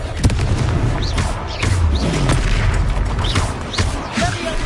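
Booming Confringo blasting-spell explosions ring out in a Hogwarts Legacy battle, a dense, loud, rumbling burst of impacts layered with chaotic combat sounds throughout.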